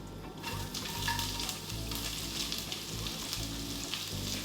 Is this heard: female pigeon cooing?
no